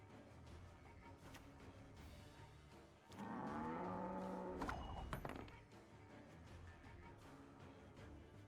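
A cow moos as a card sound effect in the game Gwent, one long low bellow of about two seconds rising out of a quiet, faint background.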